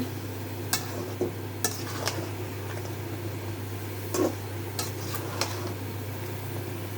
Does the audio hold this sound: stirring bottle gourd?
yes